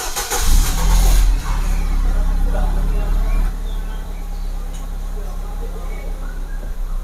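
A car engine cranks and catches at a repair shop, a loud start burst followed by a steady running drone close by.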